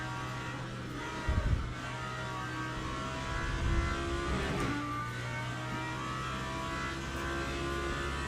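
An LMP2 prototype race car in the Le Mans Ultimate sim racing game drones past with a steady engine note that swells briefly and fades, over a constant hum, with no talking.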